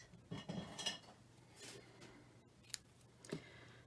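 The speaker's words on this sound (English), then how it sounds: "And then we're going to snip that." Scissors snip ribbon or paper during handmade greeting card crafting, a few faint, close crisp cuts and light clicks spaced apart in a quiet room.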